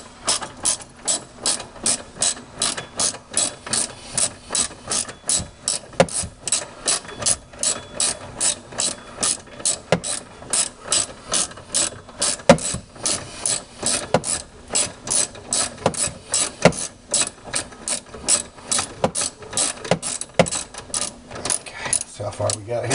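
A 10 mm ratchet wrench loosening a bolt during a battery change on a 2010 Toyota Prius, a long run of quick rhythmic clicking close up in repeated bursts, with someone speaking intermittently.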